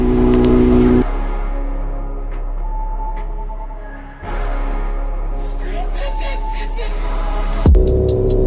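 A 2024 BMW S1000RR motorcycle is ridden, its engine droning steadily with a brief dip and then a swell as it revs, loud and close, while someone talks over it.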